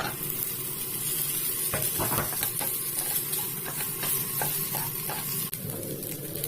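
Potatoes tip into a hot pan of curry base seasoned with turmeric and start to sizzle, a steady frying hiss with a few clinks and stirring knocks, close and alone.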